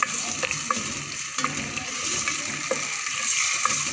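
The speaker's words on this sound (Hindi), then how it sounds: "प्याज डालने जा रही हूँ। और हम इसे थोड़ा सा फ्राई करेंगे।" Chopped onions frying and being stirred in a pan: a constant crackling sizzle broken by scattered taps and scrapes of the spoon, close by.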